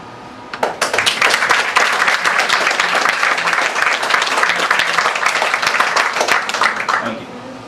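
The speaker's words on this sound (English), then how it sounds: "That's a round of applause." Audience applauding at an open mic poetry reading, loud sustained clapping that bursts in after a brief lead-in and holds steady for several seconds before easing slightly.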